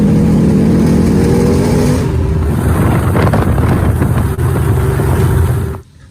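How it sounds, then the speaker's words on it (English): A car drives close by with a loud, steady engine roar that rises as it accelerates, then settles and cuts off abruptly as the vehicle pulls in, at a classic muscle car show. "We just pulled in with the car."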